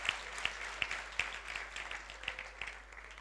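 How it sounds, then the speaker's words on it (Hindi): Audience applause at a daily Jain religious gathering with discourse, heard as a thin, distant patter of scattered claps with a few sharper individual hits over about three seconds, no voices. "सभी के सम्मान में संयुक्त रूप से जोरदार तालियां"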